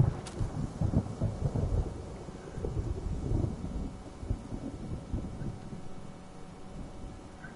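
Rumbling thunder from a storm in the video game Black Myth: Wukong, a low rolling roar that swells early and fades into a steady dark wash, with no voices.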